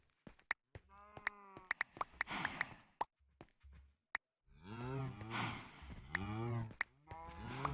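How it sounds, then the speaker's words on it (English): Cows moo loudly in a video game, several long drawn-out calls overlapping and repeating, broken up by sharp clicks and short silences between them. "Wow, them cows are noisy."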